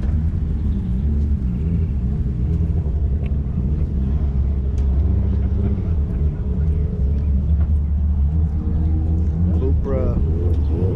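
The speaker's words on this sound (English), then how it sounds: "check out this right-hand drive Supra" Right-hand drive Toyota Supra at a racing event, its engine producing a steady low rumble close by throughout, with people talking over it.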